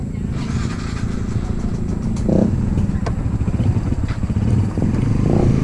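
Motorcycle engine running steadily and loud throughout, with rattly clatter and slight revving, outdoors on a street in the Philippines during New Year preparations.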